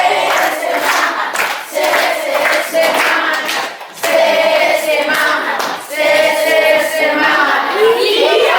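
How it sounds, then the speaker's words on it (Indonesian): A group of people clap in rhythmic spirit patterns while chanting together loudly, the clapping and voices continuous and dense throughout. "dua kali tepuk semangat, tiga kali tepuk semangat, empat kali tepuk semangat"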